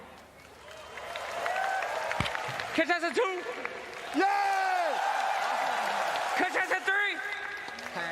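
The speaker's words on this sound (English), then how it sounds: "Crowd, I need your help." Crowd applause and cheering at a live esports event, the International 11 Dota 2 tournament, with bursts of clapping and whoops rising and falling as a host calls out contestants over a microphone.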